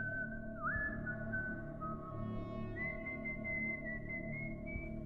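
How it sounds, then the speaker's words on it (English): Slow, wavering whistled tune with off-key pitch slides, heard outdoors at night at a moderate distance over a steady low rumble, with no talking. "I was almost asleep when I heard whistling outside."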